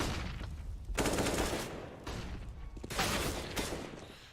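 Bursts of rapid gunfire in the video game CS:GO during a round on the map Train, loud rattling volleys separated by short lulls, with a faint voice underneath.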